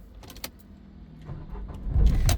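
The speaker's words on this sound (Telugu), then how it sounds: "ఈ కారు సింగిల్ సెల్ఫ్లో స్టార్ట్ అవుతుందా లేదా అన్న చూపిస్తున్నాను" A 2014 Nissan Terrano XV is started with a single crank, turning the starter briefly before the engine catches and settles into a low, steady idle. A few clicks and jangles of keys come first, and no one talks.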